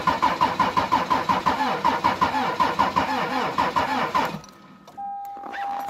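A diesel engine cold starting at -35°C: the starter cranks in a steady rapid rhythm for about four seconds, then the engine fires and the cranking stops, leaving a quieter running sound.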